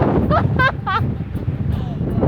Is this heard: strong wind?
yes